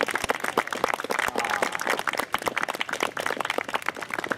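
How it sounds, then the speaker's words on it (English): Wedding guests give a dense, sustained round of applause, many hands clapping close by, steady and loud from start to finish. "So I think we should all give him a hand of applause for that one."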